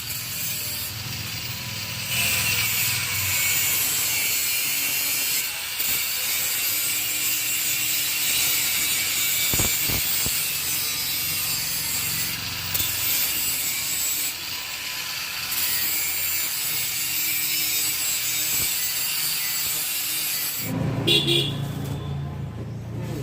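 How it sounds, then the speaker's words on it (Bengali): A grinding machine cutting metal pipes to size while an easybike is being decorated, giving a steady loud whining grind that runs for the whole stretch, with a brief change of tone near the end. "এখন দেখতে পাচ্ছেন গ্রাইন্ডিং মেশিন দিয়ে পাইপগুলো সঠিক মাপে সাইজ করে নেওয়া হচ্ছে"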